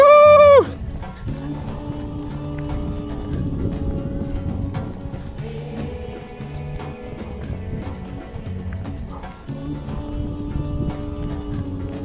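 A Motoconfort AU3 moped rides along, its small engine a steady buzzing drone with clear harmonic tones that waver slightly as it moves, fairly quiet and without talk.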